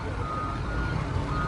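Trucks mobilizing outdoors at a park with a steady high reversing beep over a constant engine rumble and low background noise, with no voices heard.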